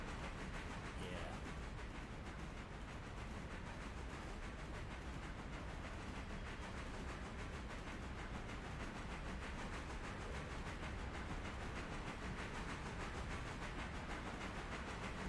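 A long freight train rolling along the track in the Railroader video game, a steady, faint rumbling hiss with no breaks, heard as distant continuous noise.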